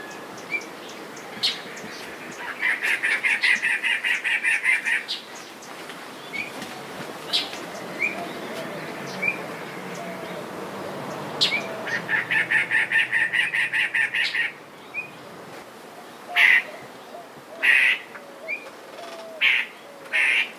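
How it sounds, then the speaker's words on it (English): Birds call in a garden with bird baths, bursts of rapid repeated chirping alternating with sharp single calls and softer distant notes over quiet background, close and moderately loud. "I just wanted to experience the sights and sounds of the birds coming to the garden"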